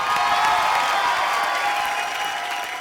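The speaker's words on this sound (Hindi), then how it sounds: "जोरदार तालियां" Studio audience at a comedy show bursts into loud, sustained applause with cheering, a dense steady wash of clapping that fades slightly toward the end.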